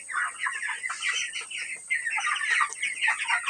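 A crowded flock of 20-day-old broiler chickens clucking nonstop, a dense, busy chatter of overlapping calls close by, with no voices.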